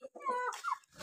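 Backyard hens cluck and squawk in quick, close bursts while being fed grain, a short burst of busy farmyard chatter.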